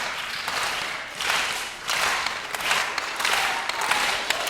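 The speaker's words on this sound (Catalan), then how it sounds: "aplaudint suau i quan els diguem dalt, una gran ovació li farem" An audience at a children's show claps softly in gentle waves of applause, steady and moderate, with little speech.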